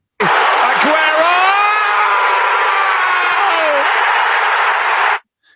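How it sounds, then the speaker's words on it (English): Studio crowd on a football fan quiz show cheering wildly, a loud sustained roar of shouts and whoops that cuts off abruptly at the end. "The crowd goes wild. They go mad."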